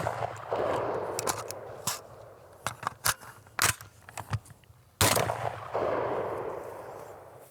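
A Genesis Arms shotgun fires repeatedly at a steel target outdoors, each sharp, loud blast followed by a ringing clang, shots coming in an irregular sequence of about eight with brief pauses between.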